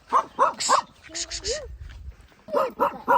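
A neighbor's small dog barks in quick bursts of three sharp yips, pauses while a person speaks briefly, then barks three more times, close and fairly loud.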